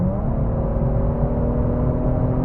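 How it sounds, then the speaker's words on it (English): A tuned Infiniti Q60 accelerates with its aftermarket exhaust and blow-off valves, a loud, close, steady engine drone with a low growl building under the pedal, no talk over it. "this exhaust is a totally different story as soon as I hit the pedal"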